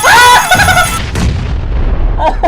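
A bomb goes off in a video game, a loud booming blast that fades into a rumbling tail, followed by a couple of fainter pops near the end.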